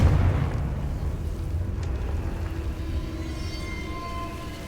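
The Confringo explosive spell goes off in Hogwarts Legacy with a heavy blast at the start, then a rumbling, crackling tail that slowly fades, with faint tonal effects near the end.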